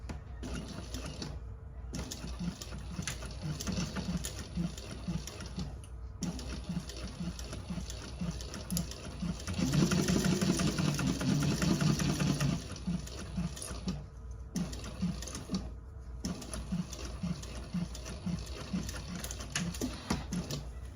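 A sewing machine runs steadily while stitching the seam of a divider handbag at the proper seam allowance, a fast even mechanical whir that swells louder for a few seconds midway before returning to a lighter hum.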